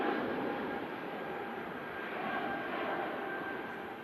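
Aircraft G-LSAJ taking off at Manchester Airport on low takeoff thrust, a steady, fairly distant broadband engine roar that holds level for several seconds with no voices.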